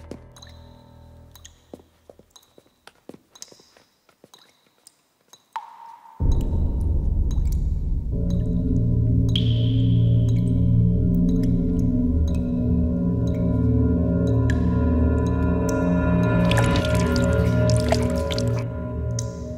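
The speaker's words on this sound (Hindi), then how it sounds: "पानी लीक हो रहा है टेरेस पर।" Water leaking from a farmhouse terrace drips and trickles, starting as sparse chirpy drips and then swelling into a loud, steady flow with tonal gurgles and splashes, no voices.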